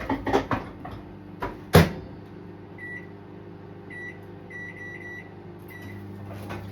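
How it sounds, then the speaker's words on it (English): A microwave oven is loaded and started in a home kitchen, with a few sharp clunks as the door shuts, then a run of short electronic beeps from the keypad over a steady low hum as it begins running. "I'm going to pop this into my other microwave oven, and I'm going to pop it in for another 30 minutes"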